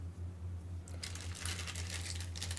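Brown wrapping paper crinkles and rustles close by while a jewelry-making kit is unboxed, starting after a quiet second and continuing in irregular bursts over a low steady hum.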